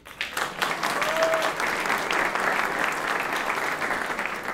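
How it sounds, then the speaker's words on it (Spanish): Audience at a stand-up comedy show breaks into loud, sustained clapping that swells quickly and stays dense and even for several seconds, with no talking over it. "Un fuerte aplauso para las chicas en la India por haber hecho eso"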